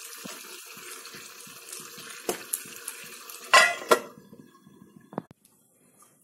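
Metal lid set onto a cooking pot of chicken dopyaza, giving a sharp clatter followed by a second knock and a fainter clink, against a background of kitchen noise.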